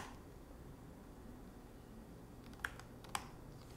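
Two sharp, isolated keystrokes on a computer keyboard, heard during a game development stream, stand out faintly over a low steady hiss with a quiet gap between them.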